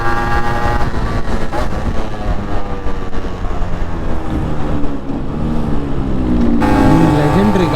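A Yamaha RX100 motorcycle riding alongside a passing train: a steady, loud engine note runs under rumbling rail noise, with a voice talking over it.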